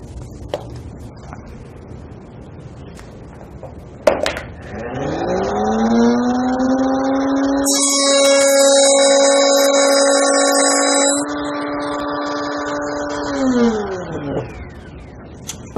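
A power saw with its guard, depth and fence set makes a test cut in a scrap piece of wood for a 5/32 inch shoulder. The motor whines up to speed, its tone shifts under load for a few seconds, then it winds down, loud and close.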